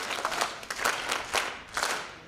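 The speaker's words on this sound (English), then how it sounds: "A loud clap, please" At a Women's Month dialogue event, an audience claps in a scattered, uneven way, with several louder bursts standing out over a softer wash of hands, fairly close and without talk.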